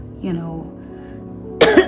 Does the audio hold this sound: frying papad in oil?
no